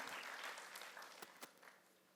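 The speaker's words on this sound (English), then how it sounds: "So big round of applause to all of us for a job very well done" Audience applause at a startup ecosystem summit, a soft, steady wash of many hands clapping that fades over a couple of seconds, with a few sharper claps standing out near the end.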